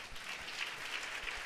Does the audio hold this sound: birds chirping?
no